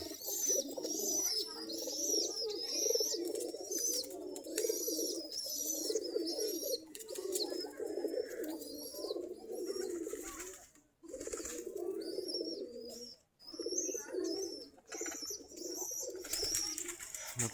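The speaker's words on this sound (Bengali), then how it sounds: "সকালবেলা কবুতর গুলো।" Desi giribaz pigeons coo in the morning, close and repeated, with soft throaty phrases rolling one after another and a few brief gaps.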